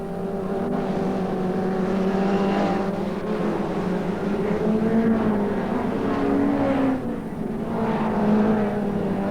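Old speedway race cars at Archerfield sweep past in a pack, a steady loud engine roar with shifting pitches as the field of six cars goes by, no talk.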